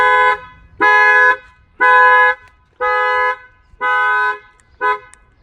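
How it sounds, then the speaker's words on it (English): Factory alarm on a 2019 Infiniti Q50 blaring its horn in a steady rhythm of six loud, sustained honks, each about half a second long with short gaps, close and alone. "If anybody tries to bust out a window here, even bust out the keyhole, it will fire off the alarm."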